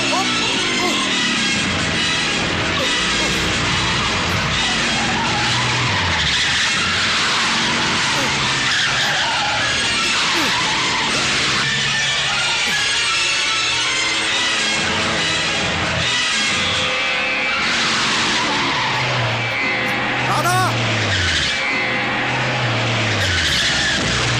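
A car drives hard and skids in a dramatic movie scene, its engine and squealing tires loud and continuous for the whole stretch, with repeated sweeping bursts. A person shouts over the vehicle noise at times.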